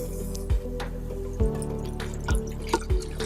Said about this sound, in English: Now we're gonna add our water.